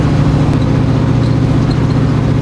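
A muscle car hot rod's engine and exhaust drone steadily from inside the moving car, a loud, continuous low rumble without pauses or talk.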